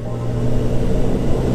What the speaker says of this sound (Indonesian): Nah ini nih polisi Jepang nih mobilnya.